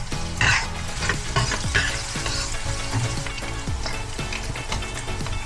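Onion and liver spread frying in a pan for a bagnet paksiw dish, a steady close sizzle with occasional spatula scrapes and clinks, no talking.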